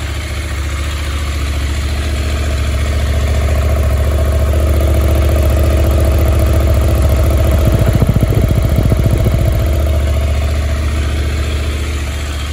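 A 2021 KTM 890 Adventure R motorcycle fitted with a Wings exhaust idles loudly and steadily up close, its deep, even rumble holding throughout with a brief slight rise in the middle.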